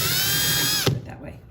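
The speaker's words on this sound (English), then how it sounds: "I drilled out the stud with" A small drill bit whines steadily as it drills out a screw stud near a curtain fitting in a camper van, then stops abruptly, leaving faint clicks and quiet handling noises.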